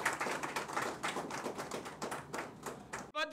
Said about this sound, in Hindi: मैं चाहता हूं जोरदार तालियों से अभिनंदन करें।